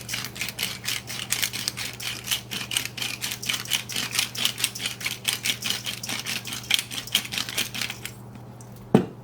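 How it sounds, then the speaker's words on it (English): A hand salt grinder is cranked over seasoning rice, onions, celery and ground beef for cabbage rolls, giving a long run of quick, evenly spaced dry clicking and crunching up close, stopping abruptly near the end. "we are going to put in here a good grind of salt"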